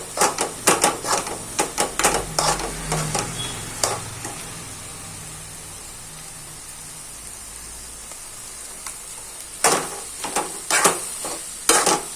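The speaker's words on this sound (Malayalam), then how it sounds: "ഇളക്കി ഇളക്കി അത് കൊത്തിപ്പൊരി പോലെ ആക്കണം." Egg scrambled in a pan over a low flame, with a soft steady sizzle under repeated sharp scraping strokes of a spatula, bursts of stirring at the start and again near the end.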